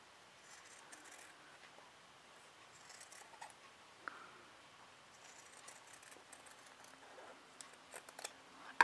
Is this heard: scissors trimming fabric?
yes